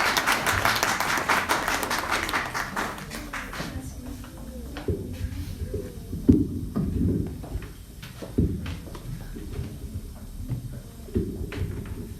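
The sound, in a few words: congregation applause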